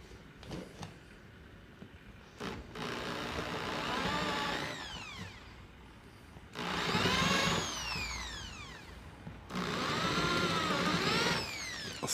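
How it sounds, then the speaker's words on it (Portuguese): Power drill boring holes in scrap wood with an 8 mm bit for a small DIY stool, whining in several separate runs that rise and fall in pitch, fairly close and with no talk. "Agora eu vou pegar uma broca 8 milímetros para fazer as cavas"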